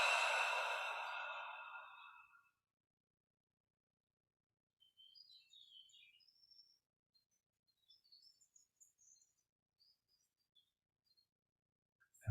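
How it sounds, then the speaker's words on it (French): A single deep breath is let out slowly through the mouth during a calm meditation session, loud and close at first, then fading to near silence with faint chirps in the background. "on inspire profondément. On garde l'air dedans. On détend toutes les parties du corps au maximum et on expire par la bouche"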